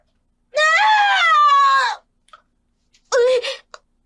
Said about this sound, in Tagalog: Isang sigaw na puno ng sakit at pagdurusa.